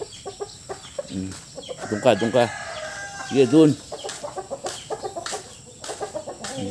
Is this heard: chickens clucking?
yes